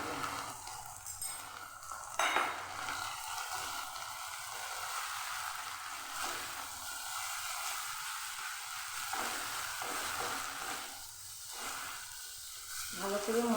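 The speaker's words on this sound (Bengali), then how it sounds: "মশলাটাকে কষিয়ে নেব আমার মশলা কষা হয়ে গেছে" Masala with cumin and coriander powder sizzles softly in a pan for jhinge aloo dim ghonto, a continuous low frying hiss with occasional spatula stirs and faint background sounds.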